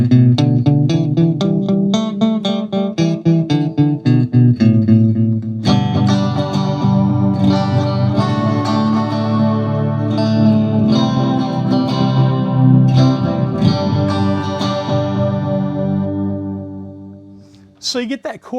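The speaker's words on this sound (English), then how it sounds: "So you get that chorus type sound there going on with the repeat." Electric guitar played through a JHS Flight Delay pedal set for chorus modulation, sounding chords and single notes with shimmering, wavering repeats and echo trails; the strumming pauses briefly, then resumes and rings out.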